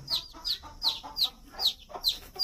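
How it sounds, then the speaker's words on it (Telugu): Hens and chicks on a farm give a rapid series of sharp, high clucks, about six evenly spaced calls in quick rhythm, close by. "కోడి పిల్లలు బాగున్నాయా?"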